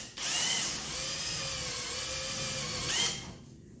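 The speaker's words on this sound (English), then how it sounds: "let's get to drilling" A power drill whines steadily for a few seconds while drilling out rivets on the door panel of a Honda Civic EF9/ED7, with a slight pitch dip midway before it spins down and stops.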